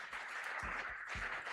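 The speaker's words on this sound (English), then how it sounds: "Let's have a huge round of applause for ma'am." A crowd at an awards ceremony applauds in a faint, steady patter of many hands that sounds distant and runs through the whole short moment.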